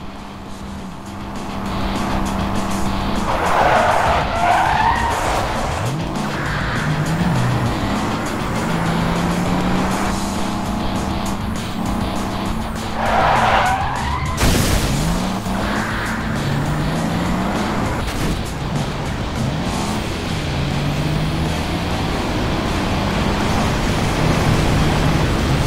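A car revs and accelerates hard in the video game Alarm für Cobra 11 Undercover, engine note climbing and shifting with tire skids, loud and continuous over driving noise.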